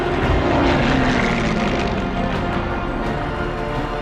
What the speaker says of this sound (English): planes zooming overhead in huge formations